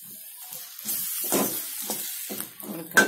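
Chicken kurma masala being stirred and sautéed in hot oil, with repeated bursts of sizzling and scraping strokes rising and falling over a few seconds, close up and with no talk.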